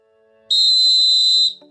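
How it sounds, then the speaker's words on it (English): A single sharp, high referee-style whistle blast lasting about a second, loud and close, over a faint low musical tone; a notification sound from the Scottish FA football app. "whistle noise there, which is the same notification sound you would get"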